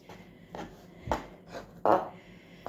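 A knife cuts boiled meat into small cubes on a board, giving about five separate, close knocks spaced unevenly over a quiet background.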